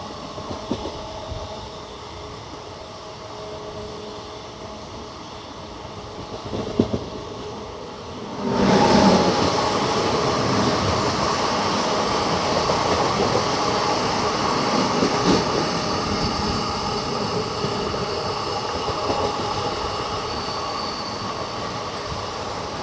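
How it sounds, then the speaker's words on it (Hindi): The Karnataka Sampark Kranti Express (Yesvantpur to Hazrat Nizamuddin) crosses on an Indian line. A quiet rumble gives way to a sudden loud rush as it draws alongside, then a steady heavy clatter of rail wheels continues nearby. "क्रॉसिंग यशवंतपुर हजरत निजामुद्दीन कर्नाटक संपर्क क्रांति एक्सप्रेस।"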